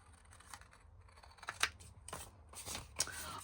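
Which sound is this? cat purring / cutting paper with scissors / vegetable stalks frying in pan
cutting paper with scissors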